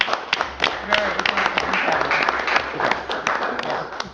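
Scattered applause at a city council meeting, a room of people clapping at moderate level with some voices mixed in, lasting a few seconds.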